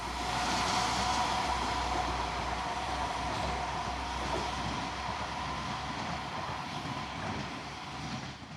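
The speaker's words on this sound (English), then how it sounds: "The main line still has trains running." A train running on the Severn Valley Railway main line during a spring steam gala, a steady broadband rumble holding at an even loudness throughout, with no talk.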